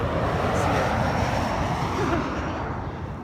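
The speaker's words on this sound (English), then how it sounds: "Plane's really close down here." A fixed-wing airplane passes low overhead above a running route in winter, a loud, steady engine roar that fills the whole moment with no pause.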